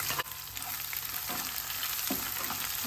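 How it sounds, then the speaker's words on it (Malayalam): Sliced onion with curry leaves frying in a pan, a steady hissing sizzle with a couple of soft stirring scrapes, even and close throughout with no voices. "സവാള നല്ലോണം ഇന്ന് വാടട്ടെ"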